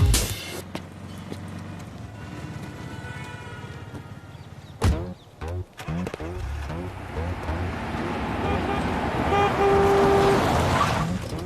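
Road traffic with engines and passing vehicles fills the scene, broken by a couple of loud close bursts and short car horn toots near the end, while people talk over the noise.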